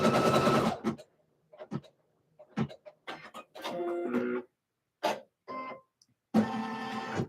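A sewing machine stitches a shirt in short bursts, running back and forth with brief pauses between each whirring, rattling run, close and fairly quiet.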